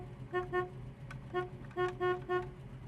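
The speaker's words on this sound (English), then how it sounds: "Horn." A 1969 Chevrolet Nova Yenko-style car sounds its horn in several short toots, a few single and paired blasts spread over a few seconds at moderate volume.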